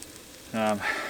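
Soft frying hiss of meat and prosciutto in a pan, briefly overlaid by a close voice speaking.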